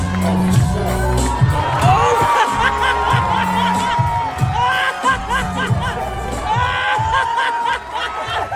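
Comedy club audience roaring with cheers, whoops and laughter in reaction to a stand-up comedian's impromptu on-stage striptease, loud and sustained throughout with dense crowd noise.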